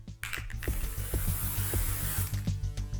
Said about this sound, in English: I have this zinc spray, which I've been using on toy molds